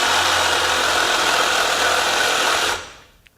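A Ryobi 18V HP One+ compact one-handed reciprocating saw cuts into the corner of square metal tubing, giving a loud, steady buzzing rasp at close range that stops abruptly near the end and fades away.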